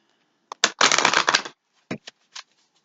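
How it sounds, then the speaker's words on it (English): Tarot cards shuffled by hand in a quiet room: a couple of quick riffs, then a dense papery burst of about a second, followed by a few short taps and flicks, close and clear with no talking. "so let's do some a little bit more shuffling here."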